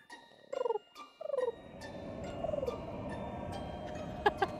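A person imitates a pigeon by vibrating the uvula, making several short warbling coo bursts, with a throaty fluttering and gaps between them, close and alone.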